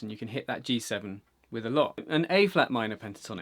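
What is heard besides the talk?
No distinct noise like a dog, phone or traffic.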